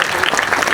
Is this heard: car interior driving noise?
no